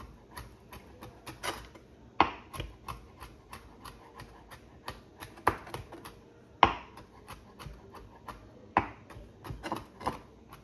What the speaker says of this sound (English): And then just chop it up small